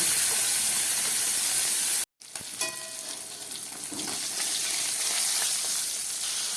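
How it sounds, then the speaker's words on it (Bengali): Continuous hissing sizzle of singi fish frying in hot oil, briefly cut off, then crackling on steadily and growing a little louder. "এবার মাছগুলোকে ভালো করে ভেজে নেব"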